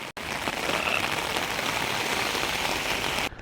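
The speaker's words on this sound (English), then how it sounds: "It's raining heavily." Heavy rain pouring onto surfaces at a university campus on a cold day, a dense, steady, loud wash of drops that fills the whole stretch and cuts off briefly at the start and near the end.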